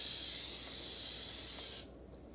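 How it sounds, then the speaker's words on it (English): A close, steady hiss of cooking oil spray onto a pan for nearly two seconds, cutting off abruptly into quiet. "First you need to spray the pan with this."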